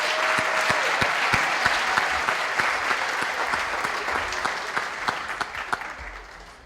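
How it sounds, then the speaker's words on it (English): A school audience at a high school awards night gives the junior scholars a round of applause, a steady indoor clapping that tapers off slightly toward the end. "Please join me in one round of applause for all of our junior scholars."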